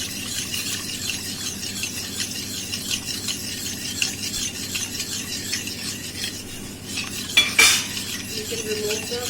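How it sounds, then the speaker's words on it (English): A spoon stirs white sauce for pasta in a pan over a high flame, a steady close scraping and rubbing against the metal with a faint sizzle underneath and a brief clink of utensils near the end. "we can keep on stirring so that it doesn't separate out"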